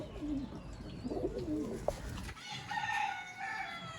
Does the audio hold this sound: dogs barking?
no